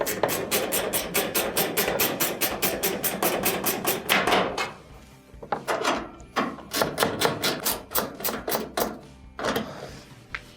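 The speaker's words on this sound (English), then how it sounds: "Let's switch over our ratchet, tighten them up." A hand ratchet tightens screws on a clothes dryer during repair, giving rapid runs of sharp clicking close by, broken by short pauses between strokes and screws, with no talking.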